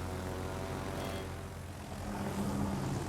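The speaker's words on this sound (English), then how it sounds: "Now we're gonna do the aircraft here so you can see how they function pretty much." Aircraft flying in the naval video game World of Warships: a steady propeller-engine drone with a low hum, moderately loud and continuous, without speech.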